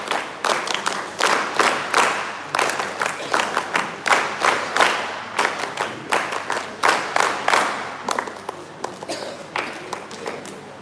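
A crowd at an NSS West Bengal event claps in bursts, with sharp individual claps and rhythmic flurries that rise and fade repeatedly over about ten seconds, fairly close and loud.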